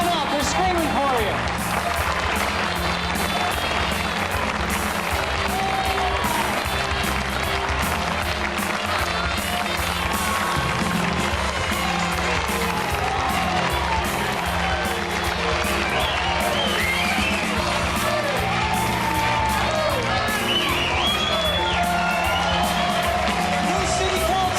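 A crowd cheers, whoops and applauds continuously for a newly elected city councilman at a campaign victory celebration, a loud dense roar of voices and clapping lasting throughout with music and talk mixed underneath.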